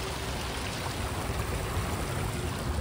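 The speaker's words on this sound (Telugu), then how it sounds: "ఆదిలాబాద్ వాటర్ ఫాల్స్ అంత పెద్ద వాటర్ ఫాల్స్ కాదు, చిన్న వాటర్ ఫాల్సే" Steady broadband rush of water from a small waterfall in Adilabad, continuous and fairly close with no voices.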